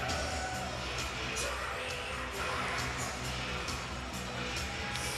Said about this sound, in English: It's a sellout crowd today